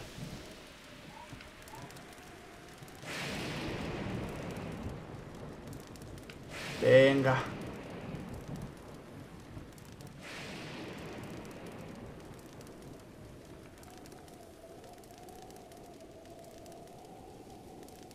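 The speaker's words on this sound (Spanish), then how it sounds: "Venga, deja de llover." Rain falling in Zelda: Breath of the Wild, a steady hiss that swells around the middle, where a louder crack of thunder breaks through, with a person speaking briefly over it.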